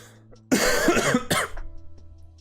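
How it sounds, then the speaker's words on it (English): Two or three harsh coughs close by, the first burst loudest, then a shorter one after a brief pause, with faint room hum before and after. "Sorry about the coughs."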